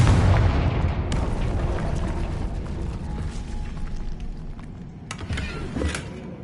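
A Confringo fire blast spell explodes in Hogwarts Legacy with a loud booming burst up front, then a sustained rumbling roar with further sharp crackling bursts near the end.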